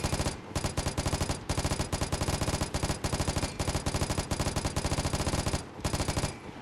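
Rapid automatic gunfire at a shooting range in the video game Vigor, loud continuous bursts of closely spaced shots with brief gaps between strings, no voices.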